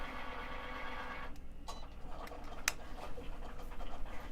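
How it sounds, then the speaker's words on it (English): A sewing machine runs steadily while trimming a top stitch on a Japanese fabric pencil pouch, with a few sharp clicks and ticks near the end, close and fairly quiet. "We'll trim up this top stitch."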